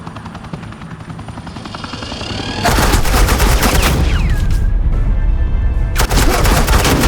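Heavy automatic gunfire in a Batman video game, a dense continuous burst of shots erupting partway through and running loud to the end with a short break, over a droning game ambience.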